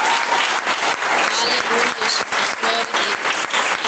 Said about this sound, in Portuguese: dá uma salva de palmas para o Rei Jesus